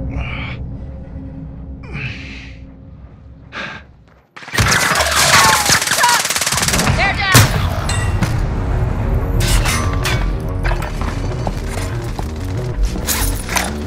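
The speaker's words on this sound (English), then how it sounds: "Bastard's trying to shoot me." Gunfire from the Warzone video game on Rebirth Island, with dense bursts of shots and game noise going on steadily after a quieter opening, loud and busy throughout.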